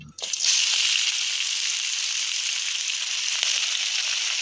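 Finely chopped palak spinach hits hot oil in a pan with a sharp initial crackle, then settles into a steady, bright sizzle that holds evenly throughout.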